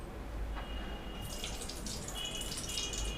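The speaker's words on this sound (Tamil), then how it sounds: "ஆயில் ஊற்றிக்கலாம்." Cooking oil being poured into a kadai, a thin close trickle and sizzle that starts partway through over a steady background hiss, quiet and without talk.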